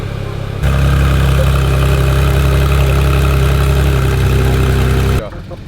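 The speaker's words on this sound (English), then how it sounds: "Idling well at the minute. We're going to leave it to idle a bit before we do anything." A Porsche GT3 RS with a fault idles close by, its engine holding a steady, loud low drone throughout before the sound drops away at the very end.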